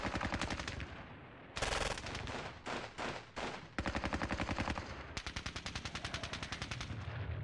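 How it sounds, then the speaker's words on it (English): Sustained machine-gun and rifle fire pounding trenches in the Squad Battles Red Victory wargame at Ponyri, dense rapid bursts that rattle on almost without pause, loud and close, with no voices. "Lots of fire coming down on my trenches here."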